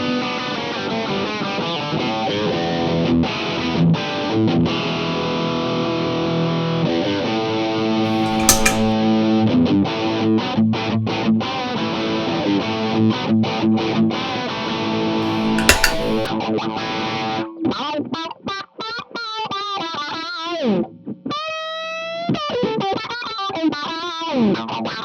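Electric guitar through an overdriven amp and MayFly Audio boost, compressor and envelope filter pedals, played alone for about twenty-five seconds: gritty sustained chords and riffs, then quacking filtered single notes near the end.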